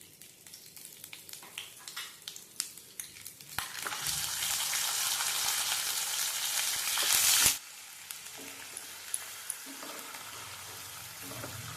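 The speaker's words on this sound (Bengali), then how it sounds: "আদা বাটা ভাজা হয়ে গেছে এবং সুন্দর গন্ধ ছেড়ে দিয়েছে" Ginger paste fries in a pan, crackling softly and then swelling into a loud steady sizzle for a few seconds before dropping back to quiet stirring scrapes and light taps.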